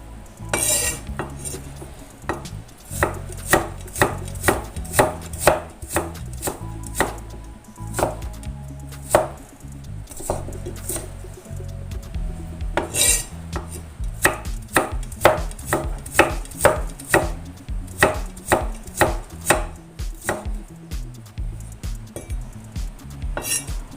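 Vegetables such as squash and carrot sliced with a knife into long thin strips, rapid irregular chopping taps close on a board over about twenty seconds, with occasional utensil clinks and no talking.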